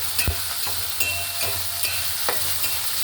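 Garlic and green chillies fry in a pan with a steady low sizzle, broken by a few sharp stirring scrapes and taps from a spoon against the pan, close by and without talk.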